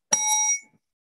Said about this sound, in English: you will hear that bell, which will tell you to sum up